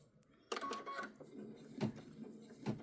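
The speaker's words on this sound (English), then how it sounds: "it's going to stitch the suitcase on the eyelet tag first" An embroidery machine stitches a suitcase design onto an eyelet luggage tag, its run starting abruptly then chattering steadily with a few louder rhythmic bursts, close and alone.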